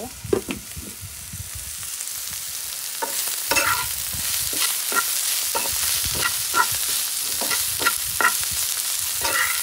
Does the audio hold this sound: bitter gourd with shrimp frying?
yes